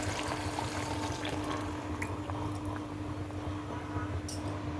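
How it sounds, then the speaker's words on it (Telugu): Water pours steadily into a pot of chicken gravy curry, a continuous rushing splash over a low background hum, with no voices. "వన్ గ్లాస్ వాటర్ వేసుకుందాం"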